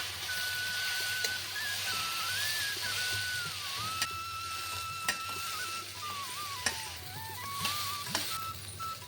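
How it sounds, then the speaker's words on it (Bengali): Chili powder, turmeric, hing, cumin and coriander sizzling in hot oil in a pan for khichuri, a steady soft frying hiss with occasional sharp clicks of stirring, no talking. "মশলাটা দিয়ে 2 মিনিট মতন ভাজলাম"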